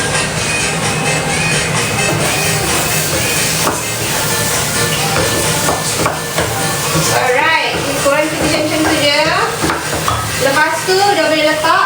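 Steady sizzling and scraping as fried rice is stirred and tossed in a hot pan with butter, continuous and close, with faint voices in the background.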